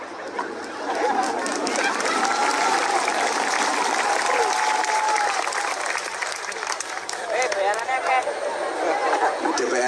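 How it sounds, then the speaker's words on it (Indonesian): Sustained applause from a large audience at an Islamic religious gathering (pengajian), dense and steady for nearly the whole stretch, with crowd chatter and voices mixed in toward the end. "DPR melok tepuk tangan."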